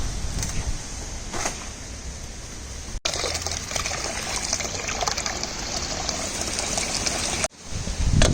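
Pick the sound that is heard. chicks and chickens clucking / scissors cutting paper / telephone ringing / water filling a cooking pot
water filling a cooking pot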